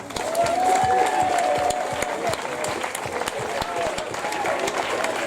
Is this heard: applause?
yes